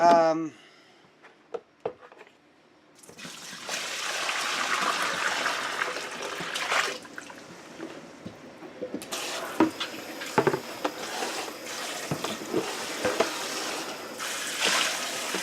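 Tap water running and splashing while a jar is rinsed at a sink, starting after a few seconds of clatter, then a steady stream punctuated by sloshes and knocks, with a person talking intermittently.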